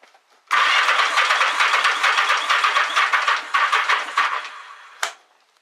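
A café racer motorcycle engine churns on its starter motor during a compression test, a loud, steady cranking that lasts about four and a half seconds and ends with a short clunk.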